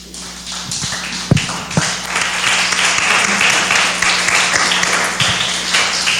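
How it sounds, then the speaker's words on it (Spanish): A church congregation on its feet applauds during a Spanish-language service, a loud, dense and sustained wash of clapping from many hands filling the room, with a few sharp nearby claps at the start. "Póngase de pie y dile un aplauso al Señor."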